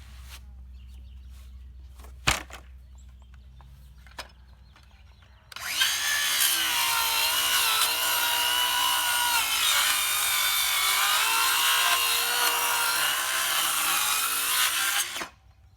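Thick pallet wood boards are cut with a reciprocating saw. After a few seconds of quiet ambience and a couple of knocks, a loud, harsh, continuous sawing roar runs for about ten seconds, then stops.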